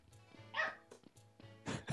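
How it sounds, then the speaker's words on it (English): A dog barks in short bursts, three or four sharp woofs spread unevenly with brief whimpering yips between them, fairly close and at moderate loudness in an otherwise quiet indoor space. "You quiet that dog!"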